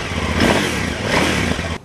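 KTM 990 Adventure big-bore adventure touring motorcycle revving nearby, two rising surges of engine roar that cut off abruptly near the end.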